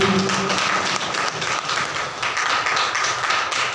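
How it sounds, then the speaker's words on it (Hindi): A seminar audience in Paluvachha claps loudly and continuously for a speaker's honoured guest. It is a dense, close wash of applause heard alone, without talk. "एक बार जोरदार ताली"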